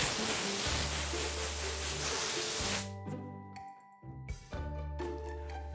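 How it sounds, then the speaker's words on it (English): A hairdryer in a shed blows with a loud, steady broadband hiss and low hum for about three seconds, then cuts off, leaving quieter rattles and a faint hum. "So this is my hairdryer."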